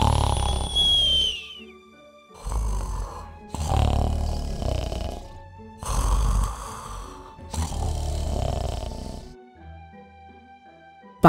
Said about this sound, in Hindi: वो वहीं दादी माँ के बिस्तर पर सो गया और जोर जोर से खर्राटे लेने लगा